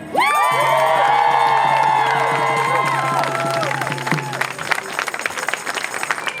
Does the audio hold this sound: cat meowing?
no